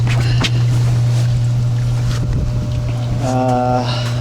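A Hydrotherapy hot tub's jet pumps, both motors, run with a steady low hum and churning water, and a brief tonal whine comes in near the end.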